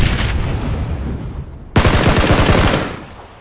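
Loud, close gunfire in the shooter game PUBG: a sustained automatic burst, a brief lull, then a second, sharper rapid-fire burst that tails off, with no voices.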